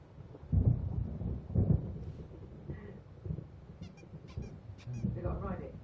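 Thunder rumbles deep and heavy in the horror video game Alan Wake Remastered, two strong low booms early on fading into a lighter rolling rumble beneath other game sounds.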